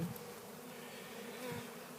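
A swarm of bees clusters on a cedar tree, a continuous close, low droning buzz with a few individual bees flying past near the microphone, no one speaking.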